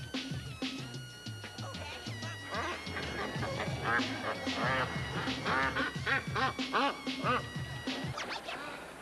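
Ducks quack loudly and repeatedly in a rapid, overlapping series that keeps going for several seconds, with a few lower honking calls mixed in and some voices in the background.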